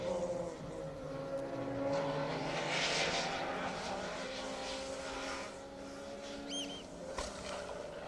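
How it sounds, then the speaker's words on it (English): A Mark II Ford Escort rally car on a closed stage of the Manx Rally, engine note heard at a distance swelling and receding, with birds calling briefly near the end. "Next up, Mark II Escort."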